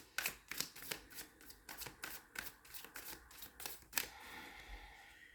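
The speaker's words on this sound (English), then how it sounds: "let me just shuffle them and get them ready" A Lumina Tarot deck being shuffled by hand, a run of quick riffling card flutters in a steady rhythm, close and crisp, with no voices.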